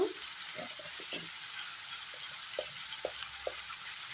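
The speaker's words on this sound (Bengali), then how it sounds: "এখানে এটাকে ভালো করে ভেজে নেব" Ingredients for chicken fried rice fry in a pan with a steady, close sizzling hiss, punctuated by a few light clinks of a utensil against the pan.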